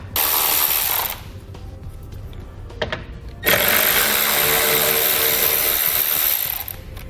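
A 10mm socket on a ratchet removes the taillight nuts on a 2018 BMW 3 Series, giving loud, close runs of fast, dense ratcheting separated by a quieter pause with light clicks.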